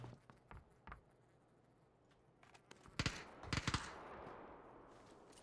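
Gunshots in a shooter video game, faint scattered shots at first, then louder clustered bursts nearby toward the end.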